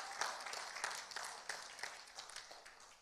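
Faint, scattered clapping from a church congregation, uneven hand claps rising and falling in a distant room with no talking.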